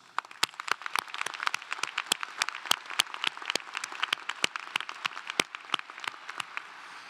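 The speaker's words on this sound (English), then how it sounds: "Graduates, let's thank them together with a well-deserved round of applause" Applause at a university doctoral commencement ceremony, sharp individual claps from a sparse crowd rising out of a softer spread of clapping in a large hall, moderately quiet and steady throughout.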